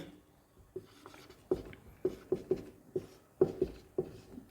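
Chalk or marker strokes tapping and scraping on a board while a maths problem is worked out, a series of short, fairly close knocks in an irregular rhythm with no talking.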